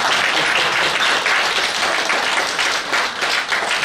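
Dense, steady audience applause filling the room, many hands clapping continuously at close range, loud and unbroken with no voices over it.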